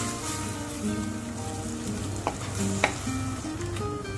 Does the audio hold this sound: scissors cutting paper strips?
no